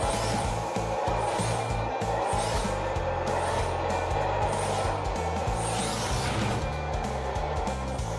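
Super Frog T14 1/14-scale RC crawler transport truck driving in its medium speed gear, a steady motor and gear whine with rough clattering running continuously and close throughout.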